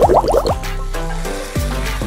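Water splashes and pours into pork for Bicol express, opening with a quick gurgling fill, then settling into a steady, close pouring stream with a brief dip and resurge near the end.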